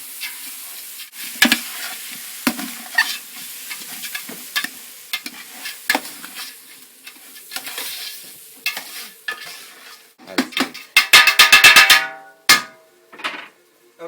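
Rice, dal and spice mix being stirred in a large frying pot, with repeated scraping strokes of a utensil against the metal over a faint sizzle, ending in a quick burst of rapid clattering stirs.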